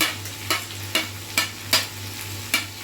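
Onions fry with a constant sizzle while a utensil scrapes the pan in about six regular strokes.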